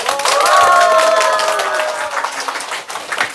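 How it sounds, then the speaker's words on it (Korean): Audience clapping welcomes a chef onto a church skit stage, brisk and close, with a few voices and whoops over it before it thins out. "나오실 때 큰 박수 부탁드립니다."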